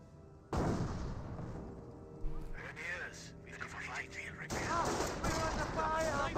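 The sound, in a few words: sniper rifle shot in the video game Company of Heroes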